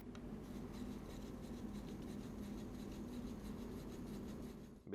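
A LionSteel Myto knife is worked on a TSPROF Blitz Pro oiled stone, giving a steady, soft, continuous scraping rub that runs evenly for several seconds before a brief clatter at the end.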